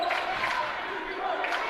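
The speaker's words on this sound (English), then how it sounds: "And now the defense chants start to come." Home crowd at a men's Division III college basketball game, Franklin against Rose-Hulman, keeps up a steady, continuous wash of defensive chanting and noise throughout a packed gym.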